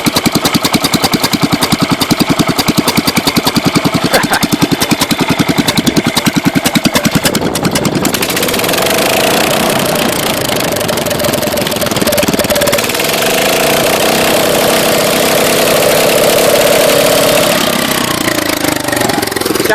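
A Kohler K301 single-cylinder engine on a John Deere 210 lawn tractor runs loud and close, with a steady, lumpy idle and a rough vibrating throb that evens out partway through.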